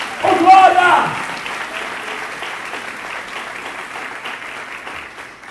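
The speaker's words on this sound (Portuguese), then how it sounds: "eu posso ouvir as palmas adorando o nome do Senhor" A church congregation claps in worship, a dense wash of applause that swells briefly at the start and then settles into steady, sustained clapping filling the room.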